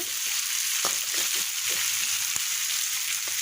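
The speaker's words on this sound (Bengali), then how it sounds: "এখন এই সিদ্ধ করা কচুর ডাঁটাগুলো নেড়ে দিয়ে চচ্চড়ি করবো" Boiled taro stems fry in a pan for chorchori, a soft steady sizzle running under scattered light scrapes and taps of a spoon stirring them.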